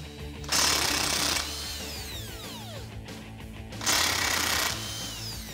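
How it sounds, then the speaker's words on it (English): An impact wrench rattles off the 18mm lower strut mount nuts on a 2021-2022 Ford Bronco during a suspension lift install, in two loud hammering bursts about a second long separated by a quiet pause. "So again, just grab your 18mm and go ahead and remove these two next."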